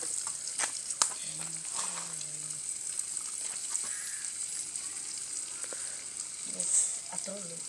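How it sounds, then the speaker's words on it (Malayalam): Pieces of snakehead fish (varal) frying in hot coconut oil with curry leaves, a steady soft sizzle and crackle with occasional pops and clinks, someone speaking briefly over it. "പിന്നെ നമ്മുടെ പീസാക്കിയ ബ്രാലിനെ നമ്മൾ ഇടുകയാണ്."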